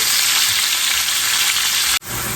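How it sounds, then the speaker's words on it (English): Onions frying in a pan for smothered chicken and onion gravy, a loud, steady, close sizzle that holds evenly throughout and cuts out for an instant near the end before resuming. "We want to go in with our onions and cook those for a few minutes so they become nice and tender."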